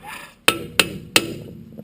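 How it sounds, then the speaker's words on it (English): Three sharp metallic taps from a hammer, evenly spaced and close by, with a bright ringing edge on each strike. "I'm just going to get a hammer, give that a little tap"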